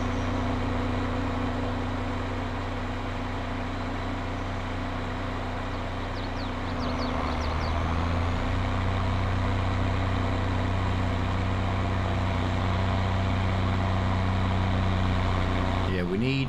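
A Ford 8200 tractor engine in Farming Simulator 22 drones steadily with a low, even hum, rising slightly midway as it works harder, while a voice talks over it.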